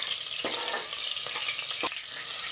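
Onion and curry leaves fry in oil in a pan, giving a steady, bright sizzle with a few soft stirring clicks and scrapes close by and no talking.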